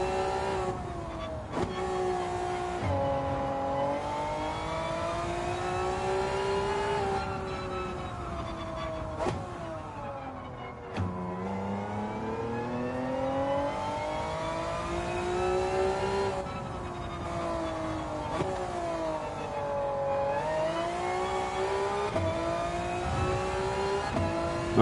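Honda NSX race car in Gran Turismo 7, its engine revving and shifting continuously with rising and falling pitch sweeps and brief gear-change dips, steady and fairly loud with no talk.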